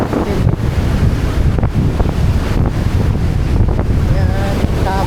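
Rough, choppy sea with strong wind buffeting the microphone, a steady broadband roar of waves and gusts throughout, with a few brief voices near the end.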